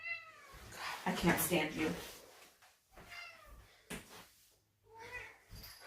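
A pet cat in a home, several repeated meows with rising and falling pitch, fairly close, with a person talking over and between them.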